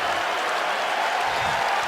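Basketball arena crowd at a Cavaliers–Bulls game reacting after Derrick Rose drives and is fouled by James Jones, a steady, loud wash of noise from thousands of spectators with no clear voices standing out.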